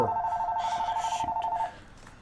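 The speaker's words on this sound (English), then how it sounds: "we're answering the phone." A telephone rings with a steady trilling electronic bell, loud and close for about a second and a half before it stops, with faint background noise after.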